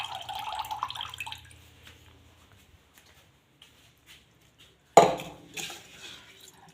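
Water poured out for a cow to drink gives a short splashing, dripping burst at the start, then near silence, with one sharp clatter and a few scattered knocks toward the end.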